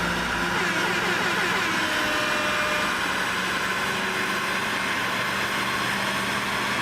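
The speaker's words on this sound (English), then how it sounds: "So this is gonna be a stock C8 on the dyno." A stock Chevy C8 Corvette runs on a chassis dyno, heard as a fairly quiet, distant steady engine drone with a broad hiss, no clear revving peaks, and no talking over it.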